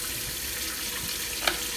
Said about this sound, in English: you want this going in with the water as it's filling to create suds